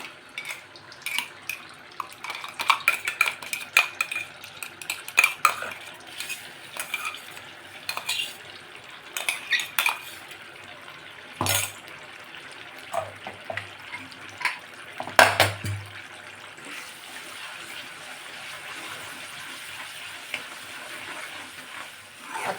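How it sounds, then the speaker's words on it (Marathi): A spicy paste for crab curry is stirred and fried in oil in a pan. A spoon scrapes and clatters repeatedly against the metal over a soft sizzle, in irregular bursts with quieter pauses between them. "आता ही पेस्ट आपण या तेलात टाकूया आणि छान तेल सुटेपर्यंत परतून घ्यायचे आहे"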